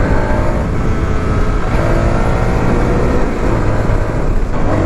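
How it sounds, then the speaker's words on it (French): A Zontes 310 T2 motorcycle engine revs hard above 5000 rpm, giving a loud, steady, continuous drone close by with no talking. "vous avez la deuxième phase de ce moteur, c'est au-dessus des 5000 tours minute"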